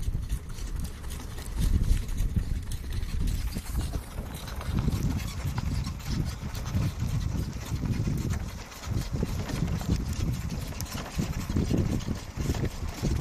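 A pony walks with its hooves clip-clopping in a steady, close rhythm, accompanied by a low rumble in the background.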